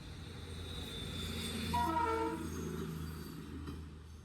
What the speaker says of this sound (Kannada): ಯಾವುದೋ ಒಂದು ಟ್ರೈನ್ ಬರೋ ಥರ ಇದೆ.